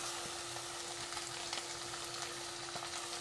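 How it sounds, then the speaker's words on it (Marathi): Marinated mutton frying in hot oil, a steady crackling sizzle with scattered pops, close and continuous, with no voices over it. "आपण याच्यामध्ये हे मुरलेलं मटण टाकूया।"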